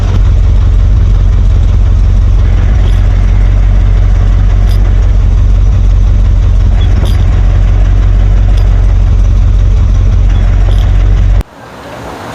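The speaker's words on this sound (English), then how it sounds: "it makes weird noises when it's in neutral and the clutch is out" A 1948-1950 Ford F1 truck sits in neutral with the clutch out, its transmission making a steady loud mechanical drone over the idling engine, cutting off abruptly near the end.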